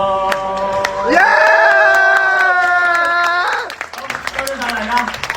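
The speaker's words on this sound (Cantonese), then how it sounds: "多謝晒大家，多謝晒大家嘅掌聲。" A crowd of students at a high school event lets out a loud, sustained shout of cheering lasting a couple of seconds, then fades into scattered clapping and lively chatter nearby.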